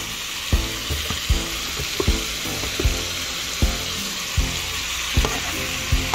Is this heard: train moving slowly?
no